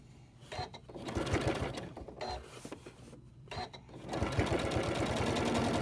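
A sewing machine stitches detail across a fused raw-edge quilt block, running in short bursts of rapid, rattling stitches separated by brief pauses, close and fairly quiet.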